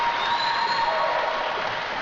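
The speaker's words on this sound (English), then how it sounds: "crowd really showing their support here." Crowd applause at a women's 10m air rifle final at the 2016 World Cup in Rio de Janeiro, a steady wash of clapping that carries evenly through the whole moment, with a faint tone running beneath it.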